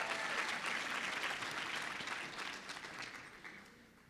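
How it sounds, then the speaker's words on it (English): Steady, dense audience applause at a Black graduation recognition ceremony, sustained and full at first, then gradually thinning and tapering off, with no clear talk over it. "Another round of applause for Tiffany Dina Lofton"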